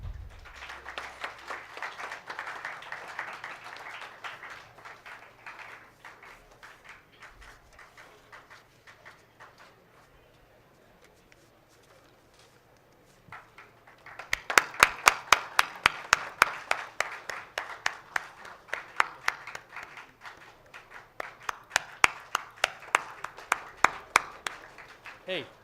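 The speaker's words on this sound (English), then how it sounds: "Can we have some applause, please?" Applause at a National Science Day event starts loosely, thins almost to silence, then surges into louder, sharp, closely miked rhythmic clapping in the second half, some claps falling together in bursts.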